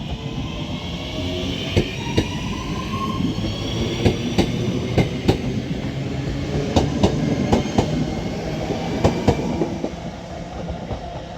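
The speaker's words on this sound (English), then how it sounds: "Now departing is going to be our final train of today here at Wigan North Western." A Northern Class 323 electric train departs Wigan North Western station, its steady rumble carrying a run of sharp rhythmic clicks as the wheels cross rail joints, with a brief squeal along the way.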